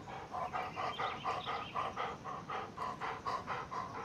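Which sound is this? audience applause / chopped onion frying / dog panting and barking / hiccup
dog panting and barking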